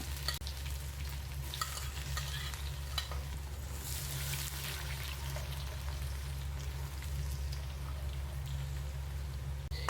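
Ginger and garlic sautéing in hot oil with mustard seeds and dried chillies, a steady close sizzle and crackle with faint stirring, no voices.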